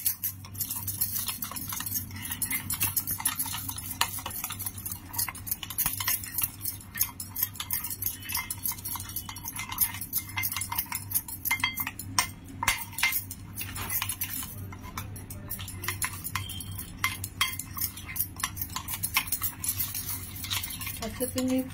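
A spoon stirs a dry salt mixture with kasuri methi in a bowl, giving steady close scraping and clinking for about twenty seconds, with no voices.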